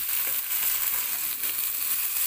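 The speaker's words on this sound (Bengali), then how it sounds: "এবার দিয়ে দিচ্ছি সবজিটা, কেটে রাখা আলু এবং কচু।" Cut potatoes and taro added to lightly fried onions in hot oil, a loud, even sizzle close by with a few soft scraping touches, continuous and unbroken.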